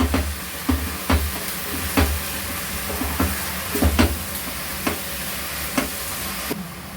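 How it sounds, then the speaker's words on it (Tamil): Brinjal sautéing in a pan, a soft sizzle broken by regular scraping and knocking strokes of a spatula, close and fairly loud, with no speech. "இப்போது நம்ம கத்திரிக்காயை போடுறோம். நல்லா வதங்கணும் கத்திரிக்காய்."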